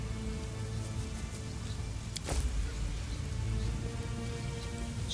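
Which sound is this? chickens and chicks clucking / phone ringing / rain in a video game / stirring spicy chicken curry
rain in a video game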